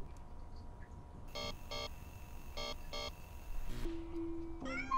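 Electronic educational video game sounds: a series of bright synthesized chime tones in pairs, then a short high kitten meow effect near the end, clean and close with quiet background.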